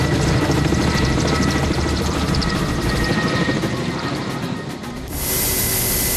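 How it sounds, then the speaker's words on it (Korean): A Russian Ka-32 heavy helicopter hovers low while scooping water for wildfire fighting, its loud rotor and engine roar close and continuous, dipping briefly before a sharp shift to a hissing whine near the end. "고난이도 비행 능력이 요구되는 헬기의 담수 과정"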